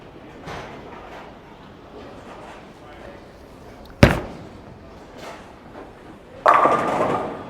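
A Storm Electrify Solid bowling ball slams into the pins at 6.5 seconds with a loud crashing clatter that rings out and decays; an earlier sharp thud near 4 seconds comes through over low alley ambience and faint background voices.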